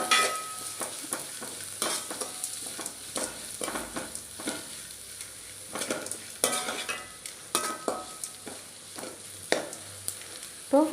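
Spinach stir-fry for keerai poriyal is stirred after salt water is added: a steady sizzle under repeated close spoon scrapes and clinks against the pan, with no voices.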